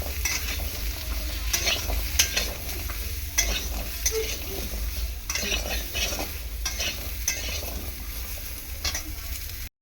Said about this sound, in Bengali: প্রথমে সবজিগুলোকে আমি কষিয়ে নেব ভালো করে